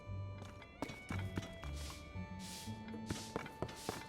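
A horse in the video game Zelda: Tears of the Kingdom clops its hooves in irregular dull thuds, with a neigh-like call over a soft game music bed, fairly quiet and with no talking.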